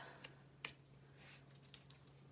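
Scissors snipping zipper tape while sewing a small wristlet, several crisp, quiet cuts spaced irregularly over a faint steady hum, no voices.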